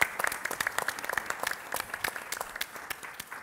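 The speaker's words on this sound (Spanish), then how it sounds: "así que pido un aplauso por ustedes" Conference audience at a tourism event in Ecuador applauding, a fairly quiet burst of dense, irregular clapping from many hands that carries on for the full few seconds.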